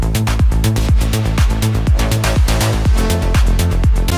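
Punchy synthesizer chord stabs made in Serum hit in a quick repeating rhythm, bright and loud, with short sharp attacks over a driving beat.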